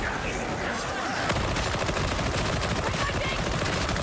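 Rapid automatic gunfire in the video game Darktide, a tight burst of shots that starts abruptly after a second of quieter game noise and rattles on without pause to the end.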